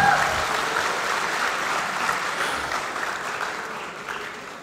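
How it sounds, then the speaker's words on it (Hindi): Audience applause at a kavi sammelan mushaira in a college auditorium hall, a steady dense wash of clapping that fades gradually over several seconds, with no talk over it. "तालियों से इजाजत दे दिए"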